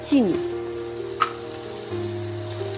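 Grated coconut hits a hot pan for a Bengali ridge gourd dish and sets off a soft, steady sizzle, with a faint clink partway through.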